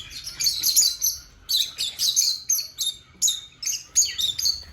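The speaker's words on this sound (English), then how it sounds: "They're lovebirds." Lovebirds at a bird park chirp in shrill, rapid bursts, nearby and fairly loud, coming in repeated clusters with short pauses between them.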